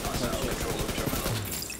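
Automatic gunfire from a shooter video game, Tom Clancy's The Division 2, played in a college student union map; a dense, continuous burst of rapid shots fills the short clip at steady loudness.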